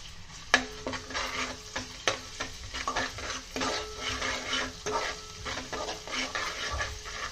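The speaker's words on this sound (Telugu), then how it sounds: "ఇప్పుడే అల్లం తురుము కూడా వేసేస్తున్నానండి. వేసేసి శుభ్రంగా కలుపుకుందాం." Cardamom, cloves, a small piece of cinnamon and grated ginger frying in a pan, with a soft sizzle under repeated scraping and clinking stirs of a spoon against the metal, fairly quiet and close.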